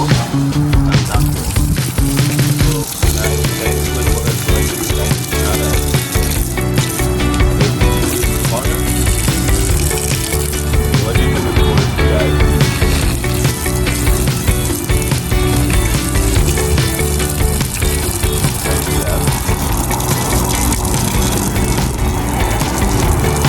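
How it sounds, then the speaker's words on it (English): Water from a test flow rushes loudly and continuously near a house foundation, a dense splashing hiss that never lets up. "We're doing a water test to see how water is going to flow from"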